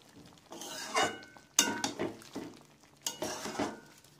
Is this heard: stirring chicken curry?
yes